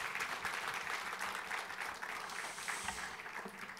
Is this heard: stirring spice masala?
no